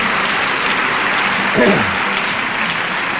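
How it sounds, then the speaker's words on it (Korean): A crowd applauds steadily at an inauguration ceremony, a dense wash of clapping that holds throughout, with a brief voice breaking through midway. "다 같이 뜨겁게 박수로 응해 주시기 바랍니다."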